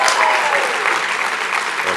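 A conference audience claps in answer to a show-of-hands question at a Young America's Foundation student conference. The applause is loud and sustained, fills two seconds, and has a faint voice under it.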